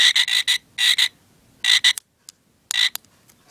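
A light-up frog keychain toy gives an electronic croaking sound, a series of buzzy rhythmic croak bursts in clusters with short pauses, loud and close, no voices.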